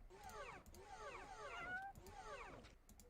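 A rare pet cat in the video game Entropia Universe meows three times in a row, each call a rising and falling wail, fairly close but quiet.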